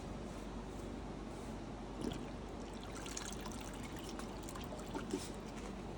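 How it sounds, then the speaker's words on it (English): An ultrasonic cleaner runs with a BMW E39 brake system part submerged inside, giving a faint, steady hiss and trickle of agitated liquid with a couple of soft clinks. "I'm gonna take a risk and throw this in the ultrasonic cleaner."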